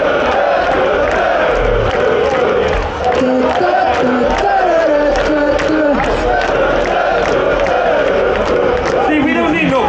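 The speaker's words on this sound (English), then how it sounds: "We got the crowd making all the noise for us." Large festival crowd at a metal festival in Belgium roaring and chanting loudly and steadily for about ten seconds, a dense wall of many voices with rhythmic shouts throughout.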